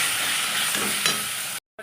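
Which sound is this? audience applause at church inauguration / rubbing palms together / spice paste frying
spice paste frying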